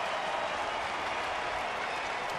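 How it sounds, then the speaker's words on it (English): A baseball stadium crowd at a Rockies–Tigers game roars in a steady, dense wash of cheering and applause, sustained and fairly distant with no single voice standing out. "Crowd getting into it now."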